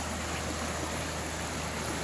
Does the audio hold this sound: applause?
no